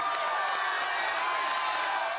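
A dense, steady roar of a huge crowd cheering Geelong's grand final win at Federation Square, with whoops and clapping blended into a continuous wash of noise.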